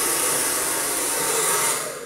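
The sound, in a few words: hair dryer blowing during hair brushing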